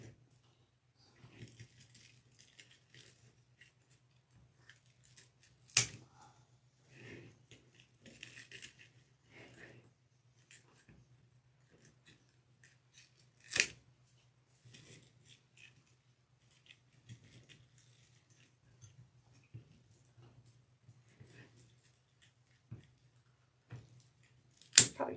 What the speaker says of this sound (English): I am going to trim some of the tail off